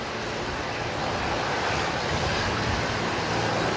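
Airbus A320 from Christchurch landing at Brisbane Airport and rolling through to the end of the runway, a steady broadband engine and reverse-thrust roar that fills the whole stretch.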